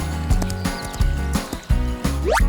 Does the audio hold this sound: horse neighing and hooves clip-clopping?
yes